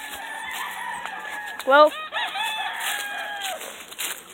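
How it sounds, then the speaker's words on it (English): A rooster crows once, loud and close, among clucking chickens, and a voice says a brief word as the crowing fades. "Look at all those chickens."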